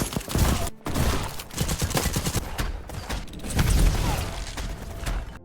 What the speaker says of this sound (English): Weapons sound punchy or precise enough.